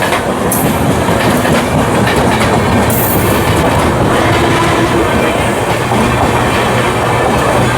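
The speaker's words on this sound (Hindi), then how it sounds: "सामने से आ रही है आपकी सीमांचल एक्सप्रेस जो कि जा रही है प्रयागराज जंक्शन के बीच तरफ" Seemanchal Express bound for Prayagraj Junction rolls past at close range, a loud, continuous rumble with rhythmic clickety-clack of wagon wheels over rail joints throughout, with no voices.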